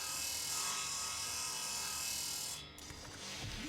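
A saw drill grinds through a sealed door in the space survival game Breathedge, a steady abrasive whine that holds for over two seconds, then cuts out briefly and resumes with a rougher mechanical rasp.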